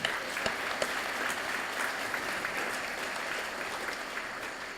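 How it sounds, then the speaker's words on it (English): Sustained applause from an audience at a presidential environmental education awards ceremony, steady dense clapping throughout at moderate volume with no one speaking over it. "So they deserve a big round of applause for the work they've done."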